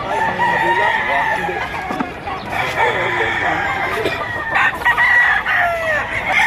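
Roosters crow and chickens cluck at a chicken market in Batangas. Overlapping crows ring out loud and close throughout, over a constant background of murmuring voices.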